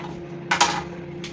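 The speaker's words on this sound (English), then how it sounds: "let the chopping begin" A couple of quick knife strikes against a cutting board, close and sharp, followed by one more light tap after a brief pause.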